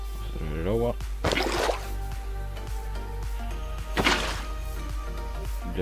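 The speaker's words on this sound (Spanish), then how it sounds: "Vamos a traer el agua." Two watery sloshing splashes from a bucket of water being poured in Minecraft sound a few seconds apart over a steady low game tone, with a voice heard near the start.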